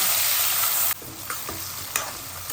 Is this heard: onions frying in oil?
yes